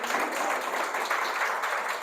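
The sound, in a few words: church congregation applause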